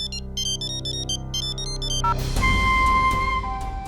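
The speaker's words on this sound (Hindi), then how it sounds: "किसका फोन है?" A ringtone on a phone chirps in repeated electronic bursts, then a louder sustained tone swells over a dense music bed in a Hindi crime drama scene.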